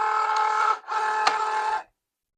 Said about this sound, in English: once I line it up, it's going to automatically start feeding it into the machine